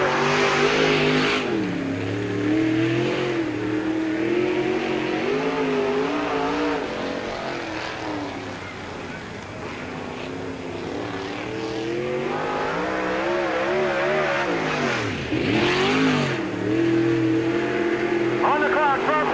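A race car rises and falls in pitch as it laps Peoria Speedway during qualifying, loud at first, fading mid-lap, then surging close again, while an announcer talks over it.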